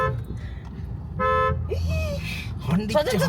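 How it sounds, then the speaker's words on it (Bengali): A car horn sounds in short harmonic toots amid background chatter and noise, with a voice talking over parts of it. "হর্ন দিচ্ছে"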